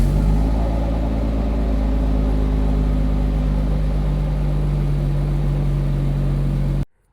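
A Jaguar XJS engine runs at a steady, close, droning idle with a low hum throughout, then cuts off abruptly near the end.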